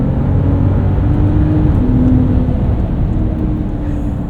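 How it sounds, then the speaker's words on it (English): A 2025 Ram RHO pickup truck launches under launch control, its engine and drivetrain making a loud, steady roar heard from inside the cab, with no talking. "Launch control there."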